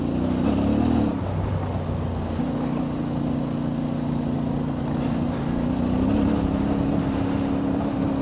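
A CF Moto 450MT motorcycle on Kenda Big Block tyres rides a trail, its engine droning steadily and shifting pitch a few times, with wind buffeting the microphone throughout.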